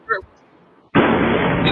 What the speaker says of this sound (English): That's got to be an underwater explosion